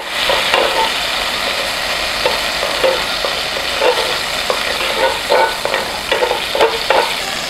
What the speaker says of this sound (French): Je viens mettre du beurre. Donc je veux faire fondre le beurre.